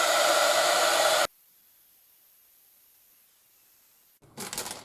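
A hair dryer blows loud and steady on a painted craft piece for just over a second, cuts off into near silence, then a brief burst of blowing returns at the end.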